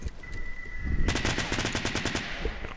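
Bursts of rapid automatic gunfire crackle in quick repeated volleys, loud and close, following a brief tonal whine at the start, with no voices.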